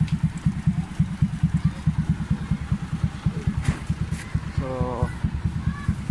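A motorcycle engine treated with restore oil idles close by with a steady, rapid thumping pulse, and someone speaks briefly over it.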